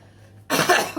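A single sharp cough bursts out close to the microphone after a moment of near silence.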